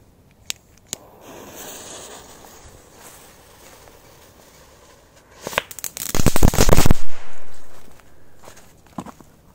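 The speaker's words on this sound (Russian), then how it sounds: "вам нравятся вот такие различные пиротехнические приколы с эффектами или просто петарды взрывать" Firecrackers going off outdoors: a few sharp isolated pops, then a dense rapid burst of crackling bangs lasting about a second, followed by a final scattered pop.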